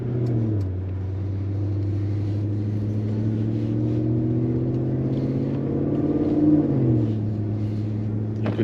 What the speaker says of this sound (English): You can hear that beautiful Milltek exhaust.